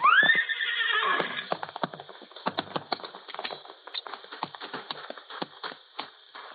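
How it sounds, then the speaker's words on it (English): A horse lets out a loud, high, descending whinny in a radio drama sound effect, followed by a steady, rhythmic clip-clop of hooves that continues at moderate loudness. "It was about a mile from the house that Eileen's horse threw her."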